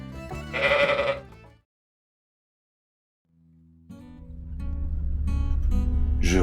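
Sheep bleat in the pastures along the Ring of Kerry in Ireland. A loud, close bleat opens, followed by a pause, then another long, wavering bleat overlapping with more calls.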